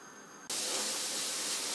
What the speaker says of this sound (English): So I'm going to go in and add my celery and onions.